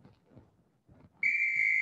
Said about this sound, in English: To the whistle